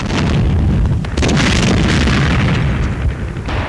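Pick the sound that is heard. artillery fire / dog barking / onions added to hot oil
artillery fire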